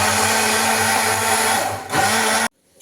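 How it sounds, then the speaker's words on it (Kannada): A kitchen mixer blends a muskmelon smoothie with milk, a loud steady motor whir that runs close and continuous, then cuts off abruptly near the end. "ಈಗ ಇನ್ನೊಂದ್ಸಲ ಮಿಕ್ಸಿ ಮಾಡಿ."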